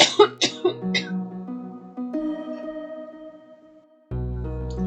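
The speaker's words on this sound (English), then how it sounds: "I had a cough there for a minute" A person coughs several times in a quick burst of sharp, close coughs, followed by a few seconds of quieter tones and a low sustained sound at the end.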